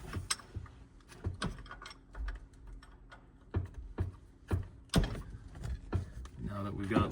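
A ratchet wrench clicks in short bursts while loosening a rusted 17mm fine-thread bolt on an OBS Ford, with metallic clacks, creaks and handling noises close by.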